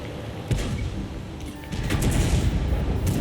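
Heavy tank cannon shots and battle noise in the video game World of Tanks: a sharp blast at the start, then another, over a steady rumbling backdrop with rising clatter.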